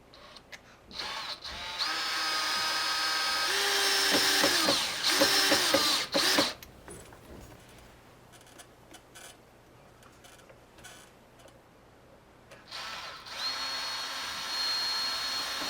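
A power drill drives screws into a play structure while a pull-up bar is being replaced, with two short whirring runs close together early on, a quieter stretch of clicks and handling noise, then a final whine.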